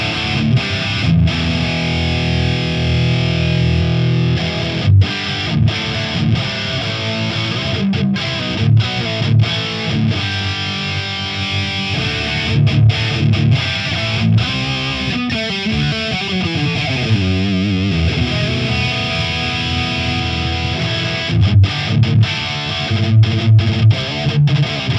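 Electric guitar run through an amp from a HeadRush line out with EQ switched off, a loud, continuous distorted riff with chugging chords and note runs throughout.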